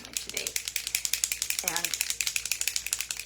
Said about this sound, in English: I'm just shaking up. I'm going to use the spray primer today